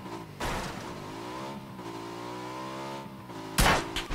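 Motorcycle engine in the PUBG video game, a steady droning hum with rising pitch as it revs, cut by a sharp loud crash or impact near the end.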